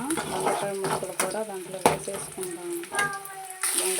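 Sliced ivy gourd (dondakaya) frying in an oiled pan, a steady crackling sizzle with occasional stirring knocks, while a voice speaks over it.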